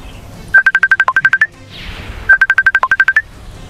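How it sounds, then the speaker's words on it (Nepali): A mobile phone ringtone plays loudly and close, two identical bursts of rapid electronic beeps separated by a short pause, with no talking over it. "कसको फोन आयो फेरि"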